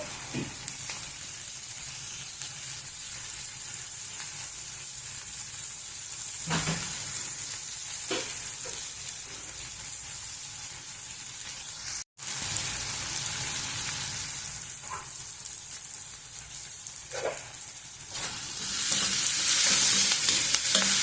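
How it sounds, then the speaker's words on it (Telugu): Onions with a little salt and turmeric fry slowly in a pan over a low flame, a steady soft sizzle running throughout with occasional stirring scrapes, brief pause midway, sizzle growing a bit louder near the end. "కొద్దిగా కలర్ వచ్చేంత వరకు వేగనిద్దాం."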